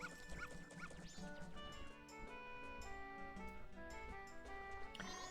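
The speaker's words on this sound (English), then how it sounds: "that dog can attack me, but I don't take damage" Dog in Zelda: Majora's Mask barking and yipping in short game-sound bursts, with a whimper, over a looping melodic background music track at low volume.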